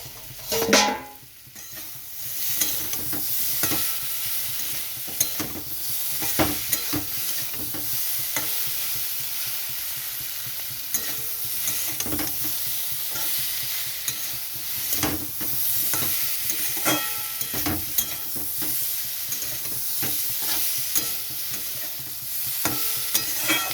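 Spice paste for a fish curry with papaya and potato stir-fries in a pan, a steady close sizzle with repeated scraping and stirring strokes of a spatula running throughout, no voices.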